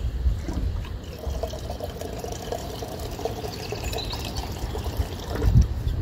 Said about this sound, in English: Turn the tap to the on position.